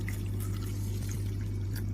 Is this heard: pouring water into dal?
yes